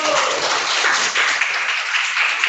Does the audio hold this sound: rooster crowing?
no